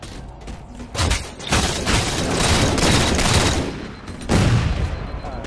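Rapid bursts of gunfire from a Halo 4 Slayer multiplayer match crackle and boom in dense, loud volleys, with a brief lull early and a heavy burst near the end.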